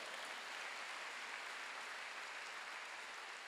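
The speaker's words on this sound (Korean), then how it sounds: "왜 박수 소리가 그렇게 작아요?" A church congregation at a Sunday worship service gives a faint, distant patter of applause, continuous and even throughout.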